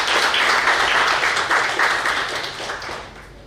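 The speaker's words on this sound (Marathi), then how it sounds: "त्याच्यासाठी आमच्या टीमसाठी एकदा जोरदार टाळ्या झाल्या तर फार बरं." An audience at a technical seminar on anchor fasteners gives a burst of dense clapping that starts full and tapers off over a few seconds.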